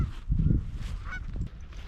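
A flock of geese honks over a corn field in Manitoba during a hunt, several loud nearby honks overlapping in a brief burst with low outdoor rumble.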